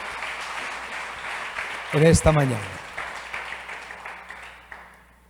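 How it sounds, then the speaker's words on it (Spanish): A church congregation claps steadily in the background, moderately loud at first and fading toward the end, while a preacher speaks briefly over it. "Dale un aplauso a la palabra del Señor"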